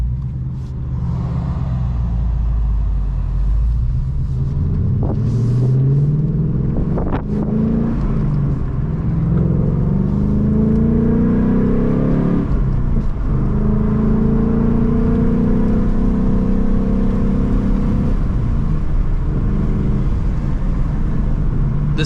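A Ford Mustang Mach 1 engine rumbles and rises in pitch as it accelerates and shifts, with steady road and wind noise throughout and no talking.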